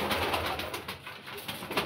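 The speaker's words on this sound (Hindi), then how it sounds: "ये स्लेटी कबूतर है मेरा" A slate-grey pigeon coos softly in a series of repeated low, throaty calls, close by and fairly quiet.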